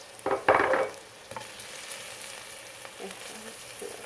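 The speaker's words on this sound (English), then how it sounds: "Saute that a little bit. Kind of bloom the seasonings and wake them up." Salt, smoked paprika and crushed red pepper sautéing in a pan: a short sharp burst of stirring and scraping, then a steady soft sizzle with faint clinks, no voices.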